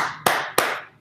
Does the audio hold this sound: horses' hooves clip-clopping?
no